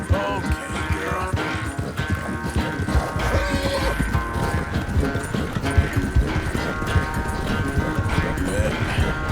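A horse gallops in the game Red Dead Redemption 2, with steady hoof clip-clops running under music and a voice throughout the clip.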